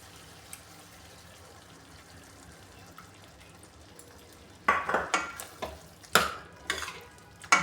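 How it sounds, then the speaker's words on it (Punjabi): Pumpkin curry with tamarind pulp being stirred in a pan, quiet at first, then a series of sharp scraping and clinking spoon strokes in uneven rhythm over the second half, close and moderately loud. "ਚੰਗੀ ਤਰ੍ਹਾਂ ਮਿਕਸ ਕਰ ਦਿੰਦੇ ਹਾਂ"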